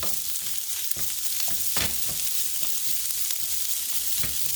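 Chicken fried rice frying in a pan, a constant close hiss of sizzling oil with periodic scraping and stirring strokes of a utensil against the pan, no talk.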